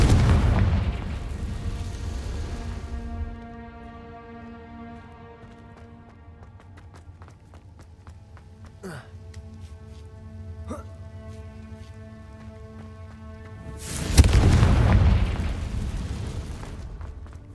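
Confringo spell explosions go off in the video game Hogwarts Legacy as loud booming blasts, one at the start and another near the end. Sustained tonal game music and small chimes fill the stretch between them.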